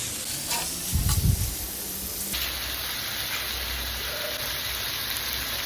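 Aloo gobi with masala frying in a pan, its steady sizzle joined by a brief burst of spoon-stirring scrapes near the start, then a constant hiss of frying and steam throughout.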